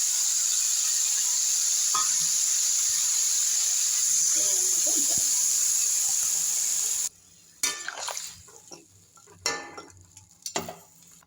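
Mung dal tipped into a hot pan, setting off a loud steady sizzle and hiss that holds for several seconds, then gives way to quieter scraping and stirring clatter.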